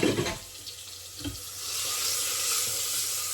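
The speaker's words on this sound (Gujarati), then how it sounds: "ચમકારો બોલી કે ખબર પડી ગઈ કે શાક વઘારે." A burst of loud hissing sizzle as pointed gourd (parval) with turmeric hits hot oil for tempering, settling into a steady crackling fry with a faint clatter at the start.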